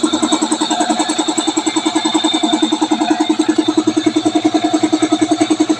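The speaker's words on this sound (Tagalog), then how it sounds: "So antayin natin hanggang mapuno tong compressor." An air compressor for a carwash vending machine runs steadily with a fast, regular pulsing thump and a constant hum, loud and close, and no voices.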